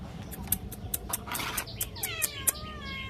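A short, falling cat meow rises out of a steady hiss, while regular faint clicks tick throughout.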